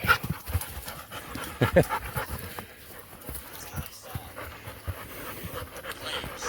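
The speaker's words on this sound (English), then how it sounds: "Hey, we got dogs." Dogs panting rapidly nearby, with scuffling movement and a brief whimper under the breathing.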